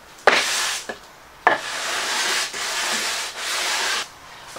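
Sandpaper rubbed along the wooden edges of a workbench to break them, several loud close back-and-forth strokes in long sustained passes, each starting with a scuff, with no speech.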